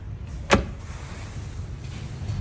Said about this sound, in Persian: پرده عقب برقی داره ماشین دوستای عزیزم